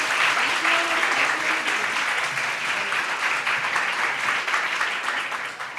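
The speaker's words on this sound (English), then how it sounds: "Can we have a nice thunderous round of applause," An audience at a PCOS talk claps steadily in a thick, sustained round of applause that holds for several seconds and slowly thins toward the end.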